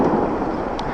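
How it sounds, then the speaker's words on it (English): Fireworks rumble and crackle outdoors on a rainy evening by a canal in Birmingham. The sound is loud and continuous for the whole moment, with one brief sharper pop near the end. "these fireworks are probably ruining my audio"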